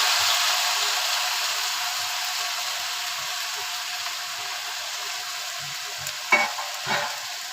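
Grated raw mango frying in hot ghee while being stirred, a steady close sizzle running throughout with a couple of brief scrapes of the spoon near the end.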